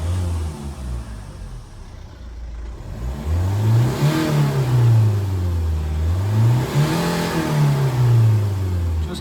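A 2017 Hyundai Creta 1.6 SX diesel engine fires up and revs in two rising, falling sweeps, loud and close, with a steady diesel rumble between the revs.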